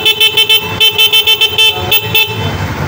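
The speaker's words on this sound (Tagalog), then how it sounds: "ayun na po yung busina niya" A motorcycle horn, running off a battery fitted in a kick-start-to-battery conversion, sounds loud and close in a quick series of about ten short beeps, then a longer blast that fades out.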